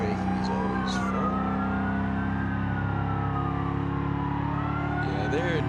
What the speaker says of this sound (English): Engine braking is always fun.